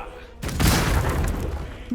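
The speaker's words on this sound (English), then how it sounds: "Maybe I throw bombs" Thrown bombs burst in a Baldur's Gate 3 battle, a sudden loud blast followed by sustained rumbling and shattering debris that keeps rolling on at close range.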